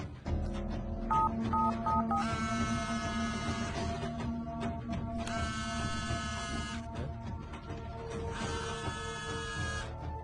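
A quick run of keypad tones is followed by three long buzzing bursts with gaps between them, over a low mechanical hum.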